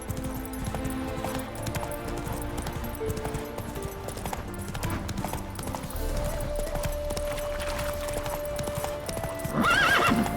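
Roach, the horse in The Witcher 3: Wild Hunt, gallops with a steady rhythmic clip-clop of hooves under game music, ending in a loud whinny near the close.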